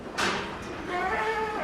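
Goats on a farm bleat as they are let out, a short sharp thump followed by a drawn-out wavering bleat, fairly close.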